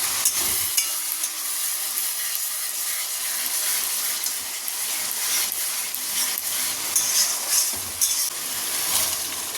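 Boiled dried peas for ghugni are tipped into fried spice paste and stirred, giving a loud, steady sizzle with bursts of scraping across the pan.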